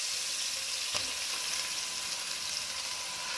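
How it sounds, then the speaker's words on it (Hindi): Onions fry in a pan with a quiet, steady sizzle and faint crackle, continuous and fairly soft throughout. "अच्छे से फ्राई करूँगी प्याज को।"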